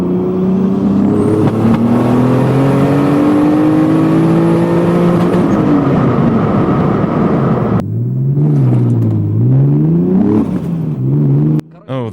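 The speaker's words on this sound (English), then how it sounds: "I'm gonna hit the gas pedal once again." A turbocharged BMW E36 with an M50B25 engine revs hard and climbs loudly through the gears, its pitch rising and falling with shifts, then drops to a lower throbbing note after a cut, with a voice briefly heard.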